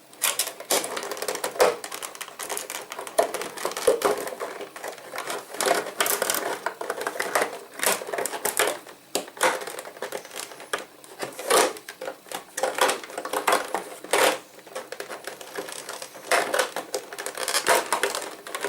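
Crinkling, tearing and rustling of cardboard and plastic packaging as a Logitech G430 headphone box is opened up close, in irregular bursts with short pauses.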